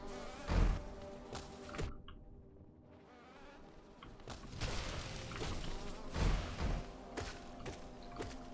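Steady insect-like buzzing drone in the Hive area of the video game Hollow Knight, low and continuous with a few soft thuds and footsteps, fairly quiet and with no talking.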